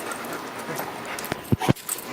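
A dog lets out a few brief, soft whimpers near the end while trying out a homemade PVC dog bed, with light shuffling beforehand.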